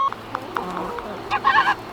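Chickens used to clear garden land cluck in short, close bursts, with a few separate calls followed by a quicker run of clucks near the end.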